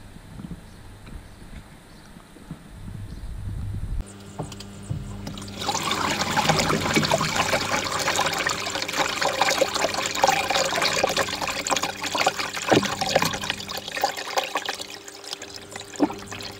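Water trickles and bubbles steadily back into a garden koi pond filter after the pipework is reconnected. A quieter hum comes first, then a fuller, continuous splashing flow starts a few seconds in and carries on close by.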